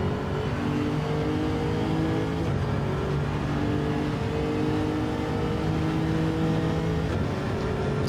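Racing car engine in a video game at Mount Panorama, holding a loud, continuous high-revving drone with steady harmonic tones and slight pitch shifts, heard alone without talk.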